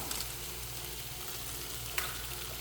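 Eggs with greens and tomato sizzling in a frying pan as they are stirred, a steady close hiss of hot oil with one faint utensil scrape near the end, no talking.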